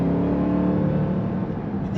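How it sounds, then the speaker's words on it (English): A 2021 Dodge Durango SRT Hellcat SUV, 710 hp with a large X-pipe exhaust in sport mode, gives a loud, steady, deep V8 exhaust drone with a throaty low rumble held close and constant, with no speech. "that amazing tone, that great exhaust note. Listen to this."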